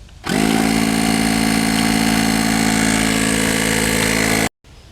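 A small portable air compressor used to inflate a flat car tire starts abruptly, holds a steady, loud motorized drone with a buzzing hum for several seconds, then cuts off suddenly.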